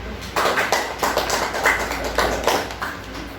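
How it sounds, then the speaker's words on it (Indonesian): Classroom applause for the first student group: a run of rhythmic, evenly spaced clapping bursts at moderate loudness, with no talking over it. "aplaus dulu untuk kelompok 1"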